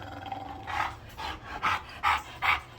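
Dog panting and letting out a series of short barks or yips, about four evenly spaced bursts, close and fairly loud, with no talk.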